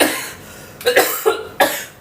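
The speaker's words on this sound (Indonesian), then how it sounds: "udah mulai batuk guys" Three sharp coughs close by, separated by short pauses, with a quiet background and no talking.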